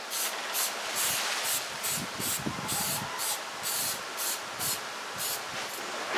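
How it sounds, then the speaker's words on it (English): Rust converter is sprayed onto bare metal on a 1994 S10 firewall in a rapid series of short aerosol bursts, each a sharp close hiss, about a dozen in quick rhythm. "I like to spray some of this rust converter right onto the bare metal"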